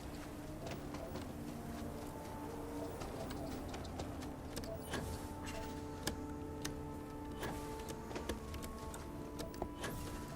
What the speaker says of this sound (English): I heard a whistle, so I assumed there might be bird life here.